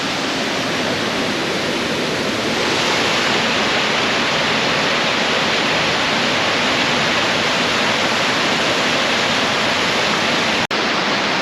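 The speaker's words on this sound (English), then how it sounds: "I can feel the spray coming off that waterfall there." A loud, steady roar of falling water fills the whole clip, broad and unbroken from a nearby waterfall at the Ashworth Mill ruins, with a brief click near the end.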